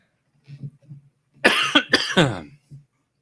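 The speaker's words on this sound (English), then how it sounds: "If I can keep from coughing." Several sharp coughs come in a quick cluster, with quieter throat sounds and a low murmur before and after.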